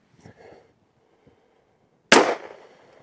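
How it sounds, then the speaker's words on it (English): A single sharp pistol shot fired with PMC Bronze ammunition at a range, a loud close crack with a short decaying tail, preceded by faint handling clicks and rustling. "We are going to shoot a group at the bottom right target."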